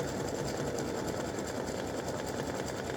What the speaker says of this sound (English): it's doing the satin stitching, which gives the bow some definition